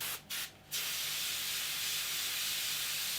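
An airbrush blows over a Revell Imperial Shuttle model: two short bursts of air hiss are followed by a steady, continuous spray that runs to the end, close and alone.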